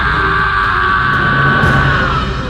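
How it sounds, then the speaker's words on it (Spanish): A harrowing scream breaking the night silence in a ghost story: one loud, sustained yell lasting a couple of seconds, heard alone and up close. "un grito desgarrador rompió el silencio de la noche"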